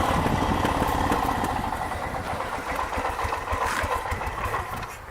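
Harley-Davidson military dirt bike engine idling, a continuous rough, pulsing motorcycle engine putter close by, a little uneven and slowly easing in level.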